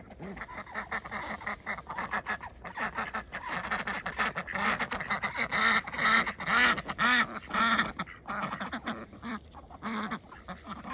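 Pet ducks in their outdoor space on a snowy day, quacking repeatedly in loud overlapping bursts close by, building toward a busier chorus midway.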